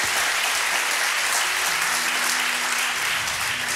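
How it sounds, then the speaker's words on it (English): A live radio show audience in a tent gives a loud, dense, sustained round of applause for the show's crew, continuous and close from start to finish. "you can give them a round of applause"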